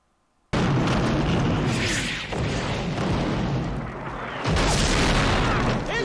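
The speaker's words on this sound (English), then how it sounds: "It's German artillery!" German artillery barrage in a World War II series set on the road into Belgium, a sudden loud onset of sustained rumbling blasts and debris, with a fresh heavy explosion near the end.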